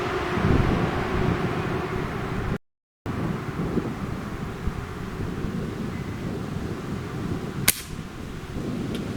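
A Crosman Legacy 1000 pump air rifle, not pumped enough, fires once outdoors at a target: a single sharp crack near the end over steady wind noise on the microphone.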